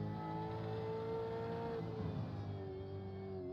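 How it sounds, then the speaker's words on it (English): Race car engine from a V8 Supercars sim racing game at Bathurst drones steadily throughout, its revs rising and then easing slightly, loud and continuous with no talk over it. "I can hear car sound."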